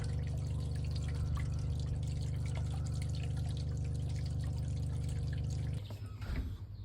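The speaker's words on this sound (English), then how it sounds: "there's water dripping off the RV" Rainwater dripping and trickling off an RV on a wet day, a steady close patter of drops over a constant low machine hum that cuts out near the end, leaving the trickle alone.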